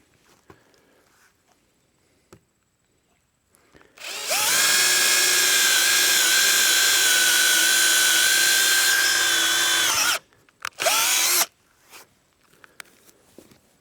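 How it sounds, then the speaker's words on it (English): A power drill pre-drilling a hole whines steadily for about six seconds, then a brief second burst, loud and close, with small handling clicks before and after. "We'll pre-drill this away from the fabric."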